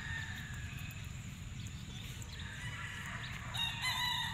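Gamecock stags tethered at a game farm in Batangas crow in the background, with a couple of drawn-out calls rising over a busy outdoor bed of other birds and farm noise.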